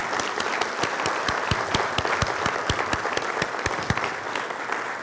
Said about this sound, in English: we owe you guys a big round of applause